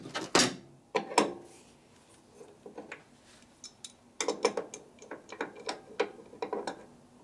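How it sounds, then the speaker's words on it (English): Wrench work on the rear axle of a 1958 Harley-Davidson Panhead 74ci: scattered metallic clicks and clanks of tools on the axle, irregular and close, with quiet gaps between bursts. "So I got to loosen up the axle."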